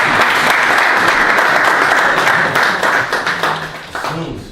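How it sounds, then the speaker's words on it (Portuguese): Audience giving a round of applause, loud dense clapping from a crowd close by that slowly thins out toward the end. "Uma salva de palmas."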